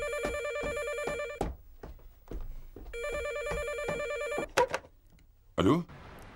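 A telephone bell rings in two long electronic trilling bursts separated by a pause, fairly close, followed by brief knocks and a handling clatter.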